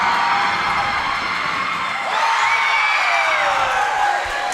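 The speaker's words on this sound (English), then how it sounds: "They're trying to yell loud to make the shooter miss his shot." Student section at a boys' school basketball game yelling at a free throw shooter, a loud sustained wall of high-pitched screaming and shouting that rises and holds throughout.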